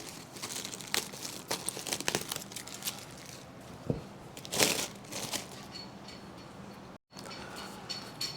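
Plastic sheeting crinkles and crackles in repeated bursts while a vintage Yamaha Enduro seat cover is fitted and trimmed, close and fairly quiet, with a sharper crunch in the middle and a brief dropout near the end.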